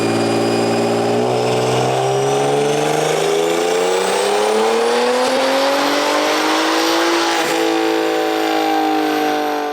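BMW F30 335i with a big turbo makes a dyno pull, its engine roaring loudly and continuously as the pitch climbs steadily through the run, with a brief dip near the end.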